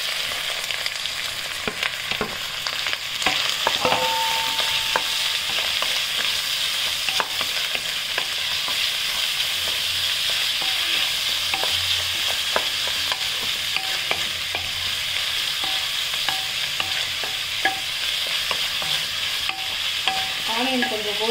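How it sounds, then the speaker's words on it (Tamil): Onions fry toward golden brown in a pan after ginger-garlic paste, prepared for a crab gravy; a continuous loud sizzle with repeated spoon stirring scrapes and clinks over about twenty seconds, no voices. "ஆனியன் கொஞ்சம் கோல்டன் ப்ரௌன் வரணும், வதங்கட்டும்"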